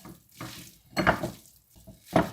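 Raw meatball mixture seasoned with oregano and paprika being mixed by hand in a bowl, giving soft, wet squelching pulses in a few bursts, close and moderately quiet, with no talking.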